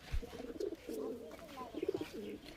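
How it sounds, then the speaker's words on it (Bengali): Pigeons cooing in a loft, several low throaty coos in short bursts, close and fairly quiet. "এইটা মাদা পায়রা আছে, চোখের কোয়ালিটি দেখতে পাচ্ছেন।"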